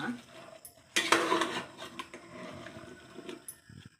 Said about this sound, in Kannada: ಹಾಕ್ಬಿಟ್ಟು ಮಿಕ್ಸ್ ಮಾಡ್ತೀನಿ ಒಂದು ನಿಮಿಷ ಎಲ್ಲ ಫ್ರೈ ಮಾಡ್ಕೊಡ್ತೀನಿ ಎಲ್ಲ ತರಕಾರಿನೂ